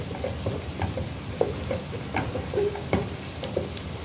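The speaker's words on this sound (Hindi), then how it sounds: "इतनी देर इसको फ्राई होने देते हैं" Onions and garlic fry in a pan with a steady, moderate sizzle, punctuated by scattered clicks and taps of a spoon stirring, with no voices.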